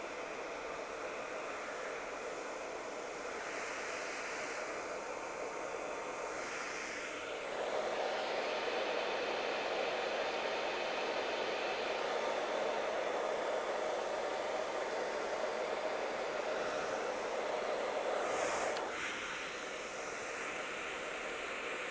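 A hair dryer fitted with a diffuser blows steady, close airflow while drying hair at the scalp, a continuous broadband whoosh that grows louder and stronger midway before easing back.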